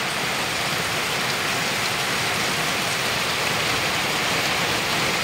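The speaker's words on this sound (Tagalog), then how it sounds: "lakas ng ulan." Heavy rain pours down steadily, a loud continuous patter and hiss of drops hitting surfaces nearby, with no voices over it.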